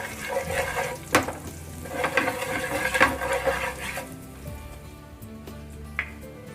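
Coriander powder, turmeric and other ground spices frying in a pan, with soft sizzling under stirring and a few sharp clinks of a spoon against the metal, moderately close and without talk.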